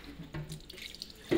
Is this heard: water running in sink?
yes